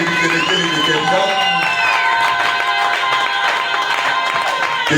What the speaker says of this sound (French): si tu veux l'acclamer, acclamez encore très bien